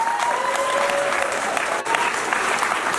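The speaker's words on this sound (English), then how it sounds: "Give a great big hand of applause to Tacoma Metro Parks." Audience applauding Tacoma Metro Parks at an outdoor groundbreaking ceremony for a cultural center, a thick continuous wash of clapping, loud and even, with a brief dip near the middle.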